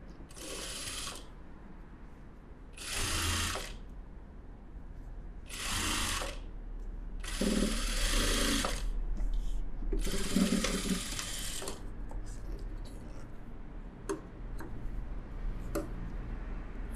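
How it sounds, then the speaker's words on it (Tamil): A sewing machine runs in repeated short bursts, stitching a folded blouse, with brief pauses and soft clicks between the runs. "இப்போ வந்து அப்படியே மடித்து நான் தையல் போடுறேன்."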